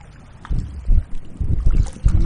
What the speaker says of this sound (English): I'm actually paddling just on the left side, just to keep myself from being blown aground